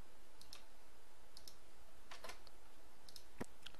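A few sharp computer clicks, including a mouse click on a create button, scattered as faint isolated ticks over a low steady hum, close and quiet.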